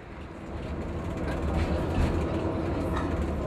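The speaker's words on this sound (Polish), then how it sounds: "Przemieszczanie się po mieście tramwajem wydaje się dzisiaj najlepszym sposobem na ominięcie olbrzymich korków." A tram runs through the city streets of Lviv, a steady rumbling roll with faint rail clatter that builds slightly and holds at a constant, fairly close level.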